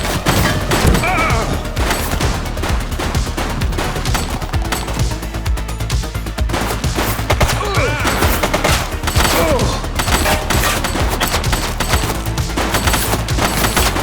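Gunshots erupt during a police chase in The Precinct, loud bursts of machine-gun fire and single cracks layered over engine roar and crashes, continuous and close.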